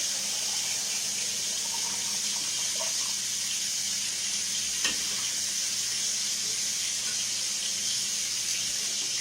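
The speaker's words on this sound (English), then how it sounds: "Immediately fill it with cold water, like that." Cold tap water runs into a pot of boiled eggs, a steady hissing rush that stays even for the whole stretch, close and loud, with a single small knock midway.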